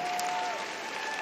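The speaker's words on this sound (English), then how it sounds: "Big round of applause for the Greyhound." Soft, distant applause from the ringside crowd at Crufts dog show as the Greyhound is presented in the Hound Group judging, a steady even patter with a faint tone running through.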